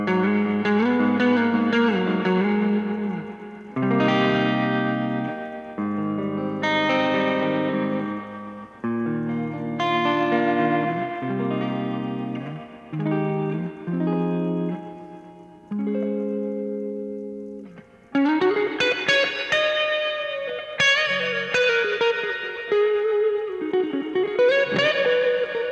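Electric guitar played through a Joyo Atmosphere effects pedal with trail switched on, sustained chords and notes washed in reverb and echo that ring over each change, loud and close, with no talking.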